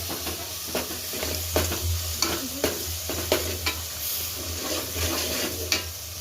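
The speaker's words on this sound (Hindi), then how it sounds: "अब मसाला भून रहा है।" Masala spice mix roasts in a pan with a steady, close sizzle, broken by repeated scraping strokes of a spoon stirring through it at irregular intervals.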